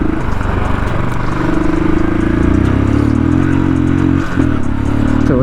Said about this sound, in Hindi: पीछे व्हील स्पिन कर दिया मैंने।